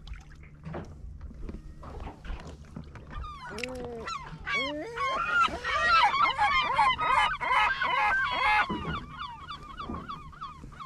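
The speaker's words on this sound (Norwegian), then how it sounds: "De der måkene tror at de skal få noe av deg." A flock of gulls calls loudly with overlapping squawks and cries while fishing on Bjørnafjorden, Norway, building into a noisy chorus before thinning out, over a low boat engine hum.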